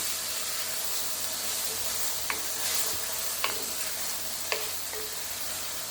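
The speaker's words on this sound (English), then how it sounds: "Now what I'm going to do is add that onion real quick. Put the onion in." Onion tossed into hot butter and olive oil in a pan for shrimp risotto, hissing in a constant close sizzle broken by a few light clicks of a utensil.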